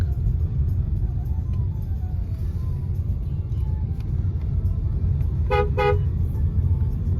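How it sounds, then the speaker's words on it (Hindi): Traffic crawling along a highway service lane on the route into Gurgaon: a steady low rumble of engines throughout, with two short car horn toots close together near the end. "इस टाइम होता ही है भाई इधर ट्रैफिक।"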